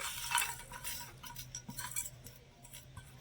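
Grated coconut and jaggery are stirred in a pan, faint scraping and light clinks of a utensil against metal, soft and close, with no voices.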